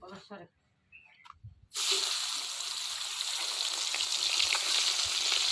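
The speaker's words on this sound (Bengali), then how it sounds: "অল্প অল্প করে মাছ ভাজবো, দুইবারে ভাজবো এই কটা মাছটাও।" Fish fried in hot oil in a wok, in a village kitchen: after a brief voice and a clatter, a loud, steady, close sizzle suddenly takes over and keeps going to the end.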